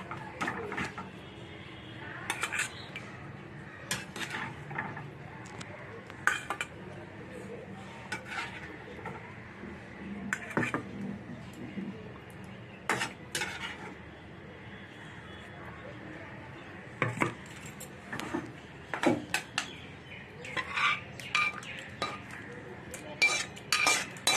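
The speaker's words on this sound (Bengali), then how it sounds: "এবার আমি এই রান্নাটাকে আমি একটা পাত্রে" Cooked masala dhoka being moved into a serving dish, with scattered clinks and scrapes of a spoon against cookware over a low kitchen background while a person talks.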